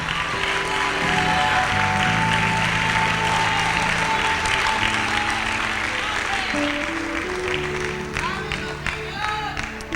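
A church congregation applauding during a sermon, with sustained, dense clapping over steady keyboard music and voices mixed in.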